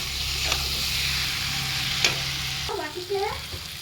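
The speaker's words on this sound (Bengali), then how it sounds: "এবার এর মধ্যে ভেজে রাখা আলু আর পটল দিয়ে দেবো, দিয়ে হালকা ভালো করে কষিয়ে নেব।" Fried potato and pointed gourd are stir-fried in spice paste for a potol ilish dish, giving a steady sizzle with a few sharp scrapes of the spatula and a short squeaky scraping at the end.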